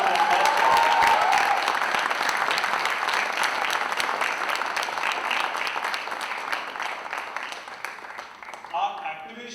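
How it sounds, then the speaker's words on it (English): Sustained, loud applause fills the hall at the Nestlé Leader's League Genesis 2025 corporate event, dense clapping from a large audience that thins slightly toward the end, with a voice briefly audible early on. "Big round of applause"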